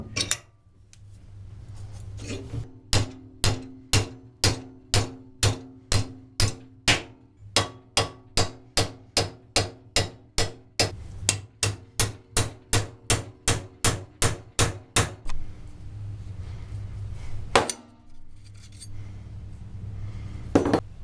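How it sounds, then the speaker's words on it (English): A metal pivot bar on a 1969 Honda CL450 motorcycle, held in a vise and hammered out, gives about thirty sharp, ringing metallic strikes at a steady, close rhythm, with a brief pause midway and fewer blows near the end. "I'm going to put it in the vise here and try to tap out the pivot bar from the other side."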